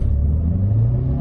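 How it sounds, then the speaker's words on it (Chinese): Geely Xingyue L (KX11) SUV, about 1.9 m wide, pulling away hard on a narrow track, a steady low engine rumble rising slightly as it accelerates, close and continuous with no talk. "直线加速的第一脚油门下去，动力就很充足"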